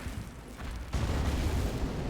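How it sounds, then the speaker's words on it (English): A white phosphorus artillery round bursts in the World War II strategy game Men of War: Assault Squad 2, set at the 1941 defense of Tobruk; a low, rumbling boom swells suddenly and lingers loudly. "Ooh, finally an explosion."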